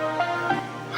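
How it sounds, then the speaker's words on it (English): Electric fans running aboard a boat galley, a steady droning hum with a constant tonal whine, close and continuous throughout, with faint thumps over it and no speech. "excuse the fan noise"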